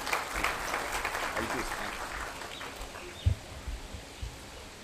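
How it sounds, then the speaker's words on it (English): An outdoor audience on the Supreme Court lawn at an Independence Day function gives a round of applause. The clapping is faint and distant and fades away, with a few scattered claps and soft background noise. "Can we have a round of applause,"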